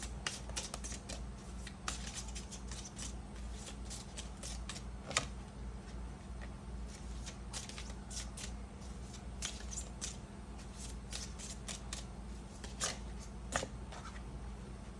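A deck of tarot-style cards is shuffled in soft, irregular flicks and slides, fairly quiet and close, over a steady low electrical hum, with no talk.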